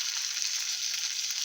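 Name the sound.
spices sizzling in pan for panchamrut chutney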